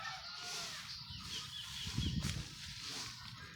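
Hens inside a chicken pen cluck softly and intermittently, with short low clucks rising in the middle over a faint background hiss.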